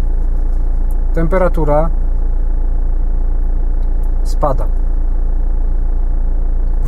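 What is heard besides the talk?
car engine running at idle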